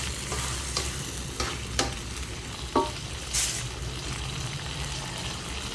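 Beef caldereta with pork being stirred in a pot, a constant soft sizzle with scattered scrapes and light knocks of the utensil against the pot, fairly quiet and close, with no talk.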